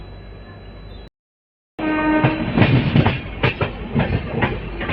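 The Seemanchal Express passenger train runs on rails in India. A brief dropout in the sound gives way to a loud, close rumble with rhythmic clickety-clack wheel beats and metallic rattling.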